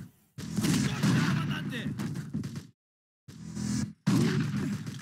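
Video-game rocket launcher blasts and gunfire from Total Overdose, in a jungle, burst out in loud chunks broken by brief silent gaps, with people talking over the shooting.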